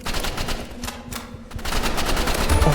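Rapid automatic gunfire in a Roblox shooter, with bursts of quick repeated shots in close succession that build into near-continuous firing by the end, loud and close, with no talking.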